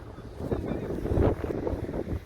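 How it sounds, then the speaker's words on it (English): Gusty wind buffets the microphone outdoors in Irving, Texas, after a tornado and cold front damaged a roof, a steady low roar with rising and falling gusts throughout. "But it is windy out here."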